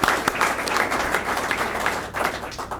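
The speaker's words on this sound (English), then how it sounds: "I want to give a round of applause to Stephanie" A government event audience gives a round of applause, dense steady clapping filling the room for a few seconds before tapering slightly.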